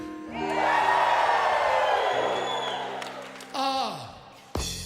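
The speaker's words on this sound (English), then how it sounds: "Cheering." Crowd cheering and whooping at a Branson concert, a loud sustained roar of many voices that swells early, fades gradually, then bursts up again in short surges near the end.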